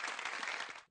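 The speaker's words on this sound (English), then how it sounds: "One more hand clap as we rated." A brief burst of dense hand clapping from a group, loud and continuous for about a second before it cuts off.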